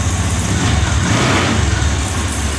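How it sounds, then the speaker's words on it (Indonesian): A 2022 Honda Scoopy scooter engine, prone to stalling, runs steadily nearby, a constant low rumbling idle with no voices. "Ini kondisi motor menyala."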